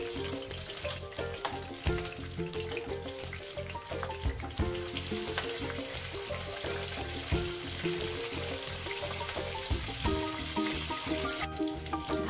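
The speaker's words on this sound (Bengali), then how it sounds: "এখন গরম তেলে মাথা দুটোকে ভেজে নেব।" Bhetki fish heads frying in hot oil, a continuous close crackling sizzle with dense pops and spatters that stays steady throughout, no voices.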